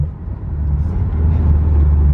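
Deep, steady engine rumble from a Honda S2000 sports car on the move, low and throaty, growing slightly louder.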